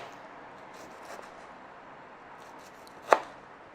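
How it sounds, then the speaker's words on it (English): A knife chops through a tomato on a board with one crisp cut landing near the end, after a softer thud earlier, against a quiet kitchen background. "it becomes very easy to cut the tomato"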